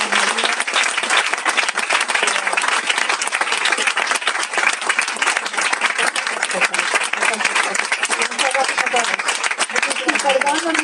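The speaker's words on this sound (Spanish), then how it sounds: "yo quería pedir un aplauso para Elvira Lindo" Sustained audience applause for author Elvira Lindo at her book presentation in Spain, dense steady clapping from a large crowd filling the whole stretch at even loudness.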